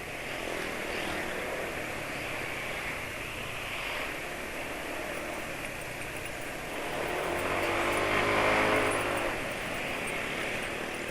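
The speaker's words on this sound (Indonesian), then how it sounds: "Suara mesin juga jadi nggak garang lagi ya" A Yamaha NMAX scooter engine running on Amsoil Signature 5W-50 oil, a steady drone with a broad hiss throughout, swelling louder toward the end as if revving up or passing closer; no voices.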